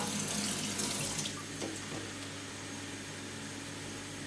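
Tap water pours steadily into a carbon filter pitcher, a continuous close hiss and rush that eases slightly after the first second and then runs on evenly.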